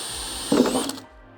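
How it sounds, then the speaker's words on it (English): A brief whine of a power drill biting into a plastic pickup bed liner at its corners, with a short grinding burst over a steady high-pitched motor hum. "I'm going to use my drill bit just to neaten up the corners here."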